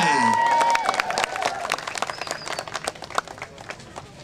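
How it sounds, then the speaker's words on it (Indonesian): A crowd at an outdoor park program launch breaks into scattered clapping just after a voice finishes, the claps irregular and moderately close, thinning toward the end. "Boleh kita beri tepuk tangan buat Bapak Basuki Cahayapurnama"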